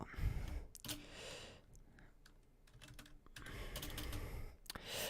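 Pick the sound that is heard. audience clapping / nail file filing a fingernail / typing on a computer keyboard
typing on a computer keyboard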